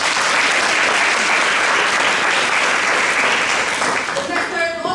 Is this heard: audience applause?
yes